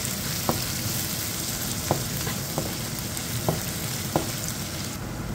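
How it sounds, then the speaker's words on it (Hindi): Ginger, garlic and green chillies fry in a pan for a chilli chicken dish, giving a steady close sizzle with a few light clicks of stirring spaced through it; no voices. "इन सबको हम फ्राई करेंगे हल्का सा"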